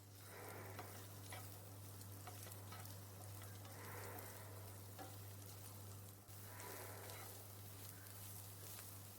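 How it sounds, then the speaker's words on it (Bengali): Soybeans tossed with spices frying in a pan, a soft continuous sizzle with periodic stirring swells over a steady low hum, fairly quiet and without speech. "দিয়ে ভালো করে আমি এগুলো ভেজে নিচ্ছি"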